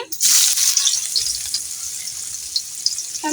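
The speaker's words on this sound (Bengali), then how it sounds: "পেঁয়াজ ভালোভাবে ভেজে নিব" Chopped onions sizzle steadily in hot oil in a pan, a loud continuous hiss with a sharp burst at the start and faint stirring scrapes.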